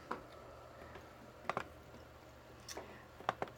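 Soft, sparse mouse clicks while working in design software for layered HTV cup decals, a few scattered single and double taps, quiet and close with no talking.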